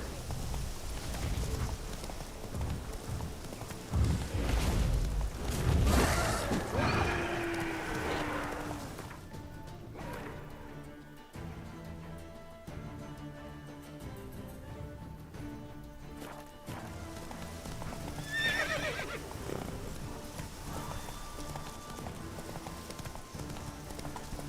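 Hooves of the horse Roach clip-clop steadily in The Witcher video game as the mount gallops and trots, a close rhythmic beat with game music and ambient sound behind it.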